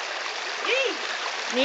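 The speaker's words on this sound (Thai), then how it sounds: "มาเล่นลำธาร" A stream by a waterfall rushes in a steady broadband wash, with voices speaking and calling briefly over the water noise.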